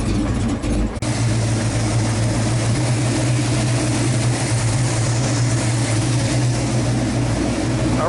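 A Ford Mustang hot rod engine running at a steady idle after tuning, with a loud, even low rumble that carries on throughout, briefly disturbed by a clunk near the start.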